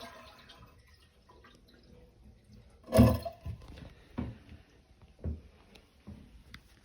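Water is sponged and wrung out of a toilet bowl, giving a few quiet, scattered drips and splashes with one louder slosh near the middle, in an otherwise hushed room.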